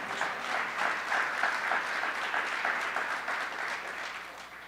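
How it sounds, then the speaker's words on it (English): A crowd at a Maryland governor's poverty awards announcement gives a sustained round of applause, dense and even clapping that swells slightly then slowly tapers, with no talk over it. "Let's just give him one more round of applause."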